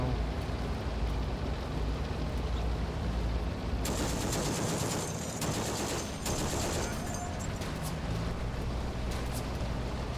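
Gunfire in Combat Mission: Afrika Korps at Gallabat crackles as rapid machine-gun bursts and scattered shots over a steady, rain-like background hiss, continuous through the stretch with no voices.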